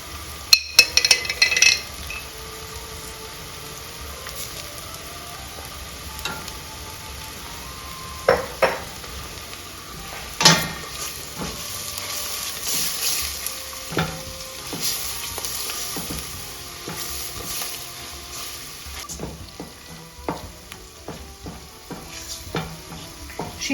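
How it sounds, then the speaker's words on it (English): Pepper paste and tomato paste sizzle in a pot over lowered heat for Armenian mante soup, with a spoon stirring and scraping and occasional metallic clinks, a soft steady fry beneath the scattered knocks. "Now she's trying to incorporate everything together."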